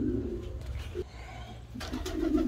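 Pigeons coo softly at close range in a loft beside a nest with an egg, with low repeated coos at the start and end and a quieter stretch between.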